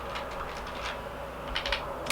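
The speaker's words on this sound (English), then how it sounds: "the keyboard typing test again." Keychron K4 mechanical keyboard with Gateron Red switches being typed on, giving soft, quiet clustered keystrokes close by at a faint level, with a few sharper clacks toward the end.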